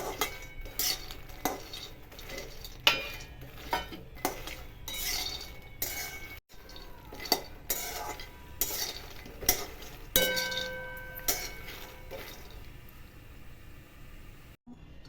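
Wheat flour being roasted in ghee for makhana and wheat-flour laddu, with repeated metallic clinks and scrapes of a spoon against the pan in a steady rhythm, close and moderately loud, with no talk.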